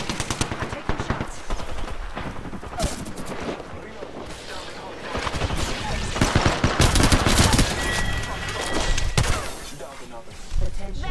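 Rapid gunfire from Apex Legends, loud bursts of automatic shots stacked in dense volleys across the whole stretch, with in-game voice lines mixed underneath.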